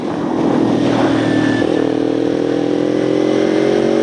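Kawasaki Ninja 250 motorcycle engine revs loudly and steadily up close, its droning pitch climbing then holding as the bike pulls away from a stop, with no talking.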